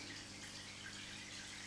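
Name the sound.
water flowing down from the OASE CrystalSkim 350 skimmer outflow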